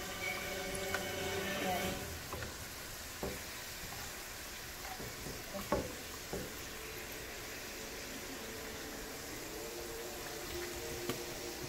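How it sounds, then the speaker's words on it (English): Oil sizzles and crackles steadily around tortillas frying, with occasional louder pops and spatters close by. "So these are the frying tortillas."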